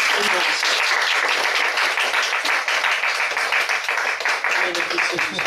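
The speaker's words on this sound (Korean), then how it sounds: "우리 두 분 나오실 때 박수를 크게 한번." A church congregation at a monthly prayer meeting gives a loud, dense round of applause to welcome missionaries serving in Paris, France, the clapping sustained and steady throughout with a faint voice or two underneath.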